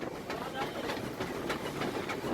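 The Fairy Queen, the world's oldest working steam locomotive, rolls along rails at about 40 km/h toward Rewari in India, a steady close rumble with faint rhythmic clicks under a voice.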